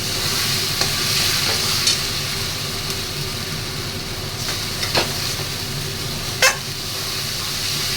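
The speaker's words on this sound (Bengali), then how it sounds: "এবার মশলাটা ভালো করে কষা হলেই হবে" A spicy chicken masala sautéing and stirred in a pan in a home kitchen, with a steady close sizzle of frying and occasional scraping stirs of a spoon against the pan, no talking.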